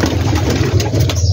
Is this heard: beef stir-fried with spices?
no